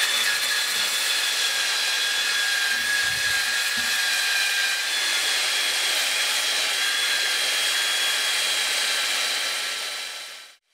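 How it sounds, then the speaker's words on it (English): Steady, loud whirring and abrasive hiss of a power sander working on a wooden pear bowl, continuous throughout with no talking, fading out at the very end. "I'm done with the power sanding."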